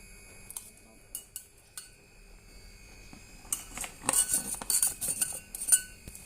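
Boiled chicken feet are drained in a pot, with light metallic clinks and clatters of utensils and cookware. These are faint and sparse at first, then grow busier and louder toward the end, with no voices.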